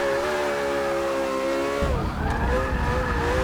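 A sports car drifting in the racing game Forza Motorsport 6: a steady, loud engine drone with sustained tyre squeal, shifting in pitch and roughening partway through as the slide continues.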